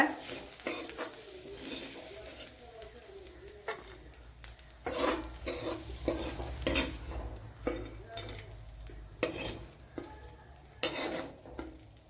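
Koorka being fried in a pan for koorka curry crackles softly, with repeated scraping stirs and utensil clinks in short bursts, fairly quiet and close.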